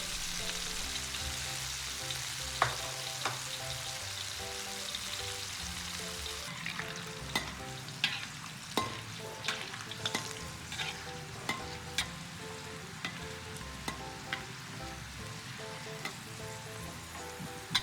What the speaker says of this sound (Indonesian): Goreng cumi satu persatu sekitar 2 menit atau hingga berwarna kuning kecoklatan